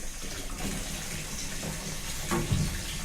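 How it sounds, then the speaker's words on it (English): Cold tap water runs steadily and spills over into a neighbouring sink while wort cools during home brewing of a Tettnang single-hop beer, a loud continuous splashing rush with slight surges. "I'm going to keep the cold water running, and that will just flow over into our neighbouring sink"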